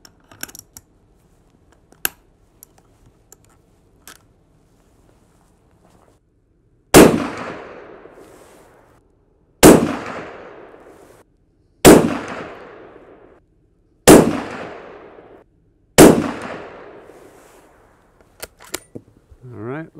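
Five evenly spaced suppressed rifle shots from a CZ 527 Carbine fitted with a Surefire SOCOM 7.62 Mini suppressor, each a sharp close report with a short decaying tail, following a few faint clicks and handling noises.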